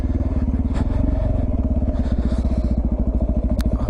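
A Suzuki DR650 motorcycle thumps along on the road, its single-cylinder engine pulsing in a fast, even rhythm with some clatter mixed in.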